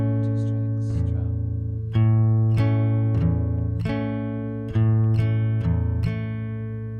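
An acoustic guitar mixes picked notes with percussive downward strums across a couple of strings, several sharp strum attacks over ringing bass notes, played close in a steady pattern.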